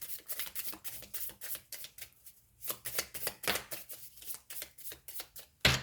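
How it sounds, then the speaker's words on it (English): Tarot cards shuffled by hand in a quick riffling rhythm, a rapid run of crisp papery flicks broken by a short pause, then more bursts, close and fairly loud with no talking. "Okay, one more shuffle."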